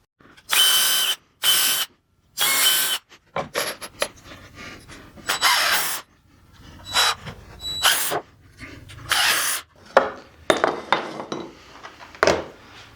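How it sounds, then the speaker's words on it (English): Several short bursts of a power drill driving screws into pallet wood whir up and stop, interspersed with clatter and knocking of tools and wood, fairly close. "pre-drill and put in the screws"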